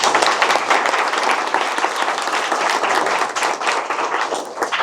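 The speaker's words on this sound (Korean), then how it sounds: "두 분께 큰 박수 부탁드립니다" Meetup audience applauding the fireside chat speakers, a dense, loud, sustained wash of many hands clapping at once with no letup throughout.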